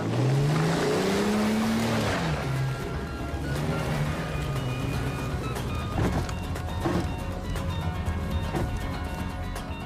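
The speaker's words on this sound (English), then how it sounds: "Jump in, I'll show you a real motor." A car engine runs steadily, a low rumbling drone that rises and falls as it revs at the start, then holds a constant hum with faint road noise, no talking.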